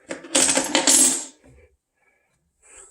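Keys and a garage door opener drop into a kitchen drawer near the sink, a loud metallic clatter and jingle lasting about a second, followed by a faint settling clink.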